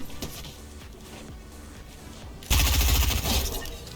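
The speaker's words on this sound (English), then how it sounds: "I build up quickly before absolutely lasering them with my assault rifle." Assault rifle fire in a video game: scattered distant shots at first, then a loud, close, sustained automatic burst in the second half, with no talking.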